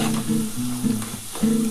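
Potatoes and bori lentil dumplings fry in a reduced amount of oil for a Bengali vegetarian bean and potato curry, giving a steady, close sizzle under a low humming tone.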